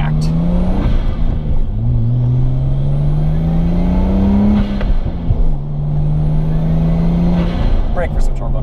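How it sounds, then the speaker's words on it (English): Nissan R32 Skyline turbocharged engine running and revving, a steady droning hum whose pitch climbs and falls over several seconds, with a faint whine on top, continuous and close. "Break for some turbo noises."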